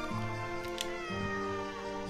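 A cat meows in the farming game Doraemon Story of Seasons: two drawn-out tonal meows, close and clear, the second starting about a second after the first, with a soft tick in between and no speech.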